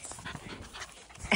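Miniature Schnauzer puppies pant and yip while playing, with quick close breathy bursts and a sharper yelp at the end; no one speaks.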